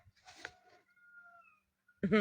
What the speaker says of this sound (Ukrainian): десь далеко гукають півні